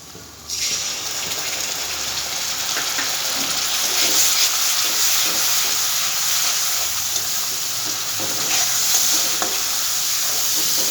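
Tomato paste sizzles as it hits hot fried spice masala in a pan for a vegetarian dhokar dalna, with a loud steady hiss and occasional stirring scrapes.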